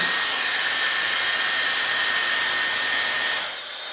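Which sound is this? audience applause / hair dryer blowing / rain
hair dryer blowing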